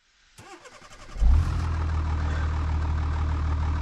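Ram 3500 dually truck with a 6.7-liter Cummins diesel and Aisin six-speed transmission starting in the BeamNG driving game: a rapid cranking chatter, then the engine catches with a loud rev and settles into a deep, steady idle rumble.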